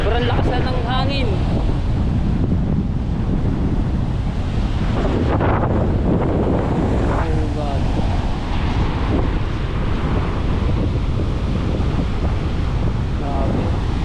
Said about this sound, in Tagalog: Sobrang lakas na ng hangin.